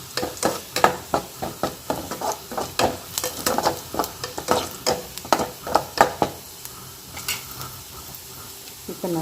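Onions sautéing in a pan for a lentil rasam lunch, a steady sizzle broken by repeated rhythmic stirring scrapes throughout, with occasional quieter pauses.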